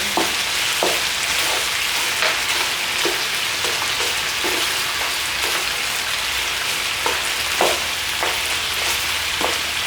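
Beef and lamb sear in a hot pan with a loud, steady crackling sizzle, broken by sharper spits and pops as the meat is flipped and stirred.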